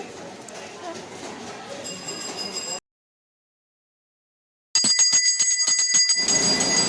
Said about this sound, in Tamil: மணி அடித்து சாமி கும்பிடும் கும்பிடுங்க எப்போவுமே மணி அடித்து தான் சாமி கும்பிடணும்